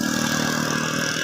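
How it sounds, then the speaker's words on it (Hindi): An old motorcycle on a village road drones steadily and moderately loud throughout, its engine note even and unbroken with no clear rise or fade. "एक पुराना मोटरसाइकिल आ रहा है जिसकी आवाज़ आप सुन सकते हैं"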